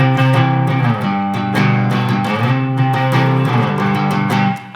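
Distorted electric guitar playing a 1-5-6 progression riff without any muting, chords ringing out and sustaining into each other, loud and close with no voices.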